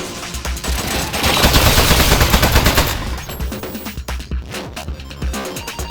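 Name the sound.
turret gunfire in video game Aperture Desk Job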